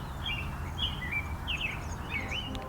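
Birds chirp, giving several short, high, thin calls spaced across the moment. The calls sit faintly over a steady low background rumble.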